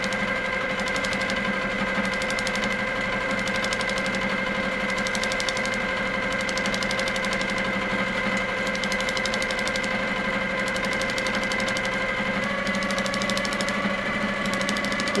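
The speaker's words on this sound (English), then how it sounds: "You can really hear the needle making that little sound, can't you?" A tattoo needle buzzes in a steady, continuous mechanical hum with a faint repetitive pulsing, close and alone.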